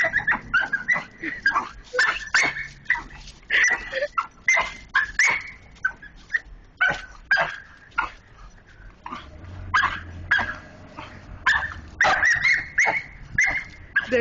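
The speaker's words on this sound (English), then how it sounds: "and then she stops barking" Dog barking repeatedly indoors, sharp close barks in quick irregular bursts mixed with yips and whimpers, loud and alone without speech.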